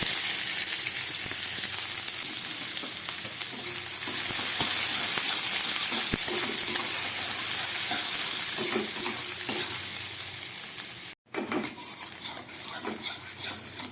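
Chopped onions sizzle in hot oil while a spoon stirs and scrapes the pan, a steady close crackle with a short break near the end.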